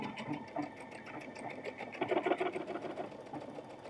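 Sewing machine running a decorative zigzag stitch, a fast even mechanical whirr with rapid ticking, close but quiet and continuous throughout.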